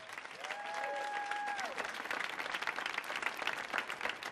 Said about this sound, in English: So give a round of applause for that